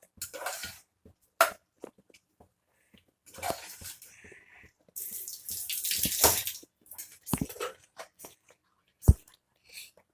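Water is poured from a tap into a pot of liver gravy in a pressure cooker, coming as short irregular splashing bursts with quiet gaps between them.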